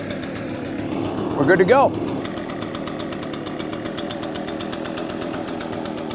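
An Echo PB580T backpack leaf blower's two-stroke engine catches after a pull start and then runs at a steady, loud, buzzy idle. A brief rising whine comes early, and someone speaks a few words over the engine.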